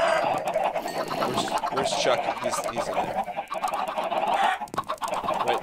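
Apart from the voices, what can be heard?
chickens clucking in Minecraft video game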